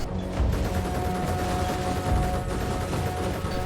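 Gunfire from Combat Mission Shock Force 2, with an SPG technical firing single shots among dense battle sounds, shots and bursts overlapping steadily and loudly throughout.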